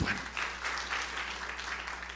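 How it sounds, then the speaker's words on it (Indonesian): A church congregation bursts into lively applause, a full burst of many clapping hands filling the room and holding steady for a couple of seconds. "Tepuk tangan yang meriah untuk kemuliaan Tuhan"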